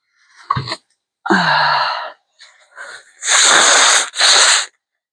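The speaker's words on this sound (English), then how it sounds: "Can't stop blowing my nose" A sharp intake of breath and a short sniffle, then two loud, honking nose blows close to the mic, the second slightly shorter, from someone with sinus congestion.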